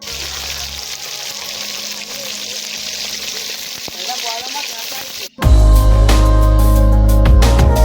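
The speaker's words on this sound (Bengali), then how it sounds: "এত তেল ছিটকাচ্ছে যে দাঁড়িয়ে দাঁড়িয়ে মাছ ভাজ দিচ্ছি" Fish frying in a pan: a softer sizzle at first, then after a short break a much louder, crackling burst of splattering oil.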